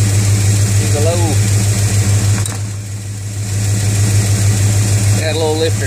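A Chevrolet C10 truck engine idles loudly close by with a steady rumble and a fast, light lifter tick running through it, while a person speaks briefly over it twice.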